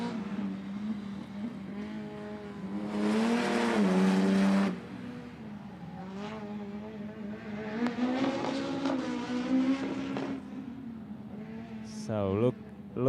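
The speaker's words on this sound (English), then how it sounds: "But right now you see Lucia Sulova with BMW" A BMW racing car on an autoslalom course at a European Autoslalom Championship event, its engine revving hard through bursts of acceleration and lifting off between gates, fairly close and loud, with a brief sharp squeal near the end.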